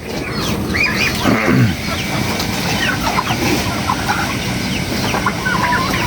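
Chickens in a backyard flock give repeated clucks and short squawks at close range, mixed with a busy outdoor background of other birds and rustling, one louder call standing out early on.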